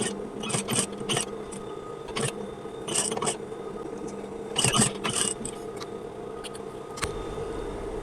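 A sewing machine stitches a half-inch fabric loop onto a sleeve, its motor humming steadily throughout with several short, sharp mechanical bursts of needle clatter, heard close and alone without talk.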